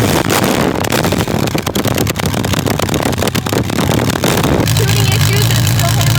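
A custom build fitted with a Suzuki Hayabusa engine and transmission idles roughly, running lean with tuning issues, a loud steady mechanical drone close to the microphone that settles into a lower hum near the end.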